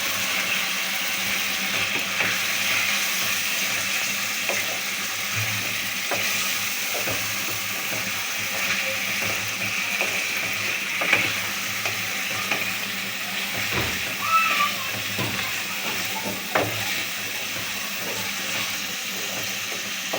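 Fish heads sizzle and fry in a spiced masala in a village kitchen pan, a steady close hiss with occasional pops and stirring scrapes throughout.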